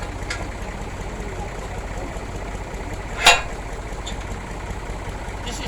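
Tractor engine idling nearby, a continuous low rumble held steady throughout, broken once by a brief sharp click.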